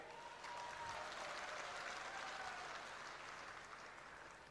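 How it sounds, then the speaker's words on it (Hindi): Crowd applause at a political rally in Bhind, Madhya Pradesh, a dense, steady clapping that swells after a brief start and holds loud for several seconds before easing slightly. "अभी ताली बजाई है"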